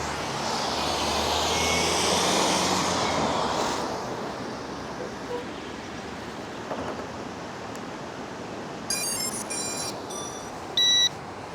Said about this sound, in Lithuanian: Nu, bandysim drončiką paleisti, drončiką.